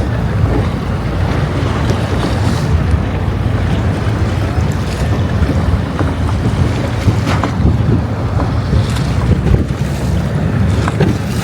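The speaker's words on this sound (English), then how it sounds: "Famous gondola ride of Venice." A gondola ride on the water in Venice, with steady loud wind rush and lapping water noise throughout, no voices over it.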